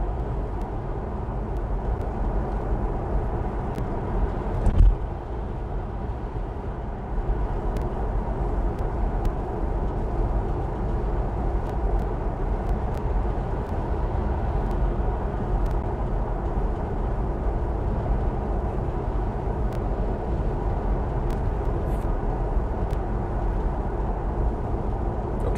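Car cabin while driving: a steady, loud broadband road and engine rumble heard from inside, continuous for the whole stretch, with one brief thump early on and no talking.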